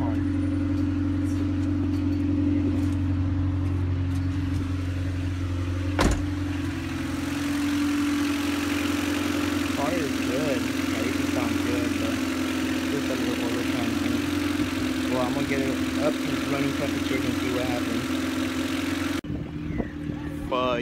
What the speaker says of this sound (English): So I literally just turned on the car.